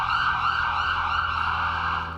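An ambulance siren wails in a steady, loud, sustained tone, alone and without talk.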